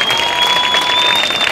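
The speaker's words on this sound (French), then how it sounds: "On peut les applaudir très fort" A dense burst of loud audience applause after a padel match at a FIP Silver tournament in Réunion, steady throughout a brief moment with a faint whistle-like tone above it.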